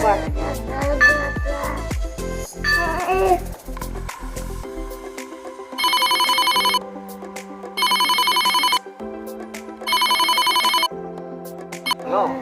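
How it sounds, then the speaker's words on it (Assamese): People talk briefly, then a phone call's ringing tone sounds on loudspeaker three times in evenly spaced bursts with pauses between. "ফোন লগাইছোঁ মই লাউড স্পীকাৰ দিম"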